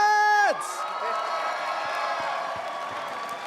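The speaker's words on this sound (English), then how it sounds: "one more huge cheer for Gen.G!" Arena crowd at the BlizzCon 2018 HGC Finals esports event keeps up a steady roar of cheering and applause after a brief announcer shout at the start, sustained and dense throughout.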